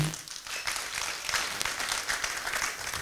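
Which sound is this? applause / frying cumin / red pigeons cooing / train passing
applause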